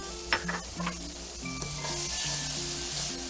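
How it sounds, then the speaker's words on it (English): Red onions sautéing in a pan for pan-fried pork chops, a steady sizzle with light stirring and scraping over background noise and tonal hum, moderately loud and close, with no talk. "Let's add our onions, our red onions."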